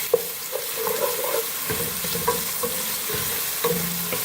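Garlic ginger paste frying with onions in a pan for black-eyed bean curry, a steady sizzle with intermittent stirring scrapes and small pops throughout, no talking.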